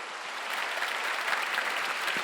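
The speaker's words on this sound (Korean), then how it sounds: "우리 하나님께 박수칩시다." A church congregation at a Sunday worship service claps steadily and continuously, a dense, even wash of many hands filling the hall from start to finish with no voices over it.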